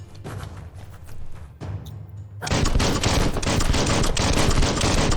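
Ranged weapon gunfire in the video game Biomutant, a rapid loud burst of shots, sparser at first and then a dense sustained barrage over the last half.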